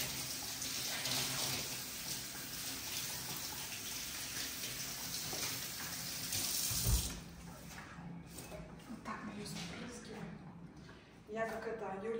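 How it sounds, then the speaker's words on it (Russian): Ice-cold tap water runs steadily into a sink for several seconds while rinsing parsley, then cuts off, leaving soft handling noises and faint dripping. "промыть под ледяной водой"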